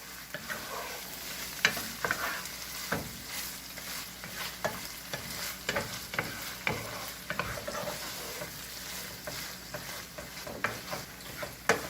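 A wooden spoon stirs sizzling frying food in a pan, with steady scraping strokes over a continuous crackle, close and moderately loud with no talking.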